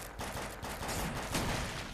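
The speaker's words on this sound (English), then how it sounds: "I'm gonna shoot some bugs in the meantime" Rapid automatic gunfire from a weapon shooting at bugs in a co-op game, a dense unbroken burst of shots lasting the whole moment, loud and close with no voices.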